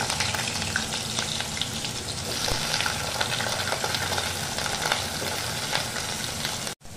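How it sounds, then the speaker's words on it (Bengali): Diced potatoes frying in hot oil with nigella seeds give a steady, close, hissing sizzle with faint crackles that continues evenly, then cuts off abruptly at the end. "এবার আমি এর মধ্যে দিয়ে দিচ্ছি ডুমো করে কেটে রাখা আলু।"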